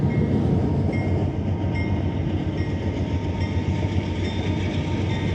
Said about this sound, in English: As this train goes by.